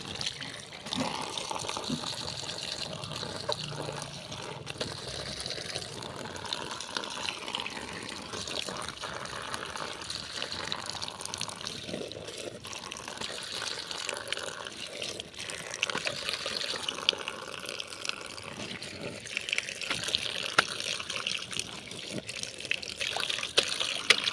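Water splashes and trickles softly for a long stretch as taro leaves are swished and rinsed, with occasional small drips and gushes.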